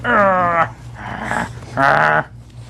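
Puppies growling and whining as they chew and tug at a bag, two loud bursts of yelping growls separated by quieter rustling, close by and alone.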